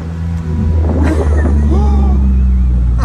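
Carver One tilting three-wheeler's engine running steadily while driving, a loud low continuous drone with rising and shifting tones as it picks up speed, with some brief voices underneath.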